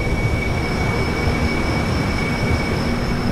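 Steady loud rumble and rattle of the Kolkata Garib Rath Express AC train running on the Kolkata–Guwahati line, heard from inside a coach, with a continuous roar and faint high tonal whine throughout.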